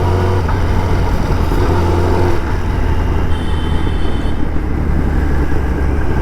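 A Kawasaki ZX-10R motorcycle engine running loud and close on a public road, a continuous heavy rumble with a slight rise in revs, no talking.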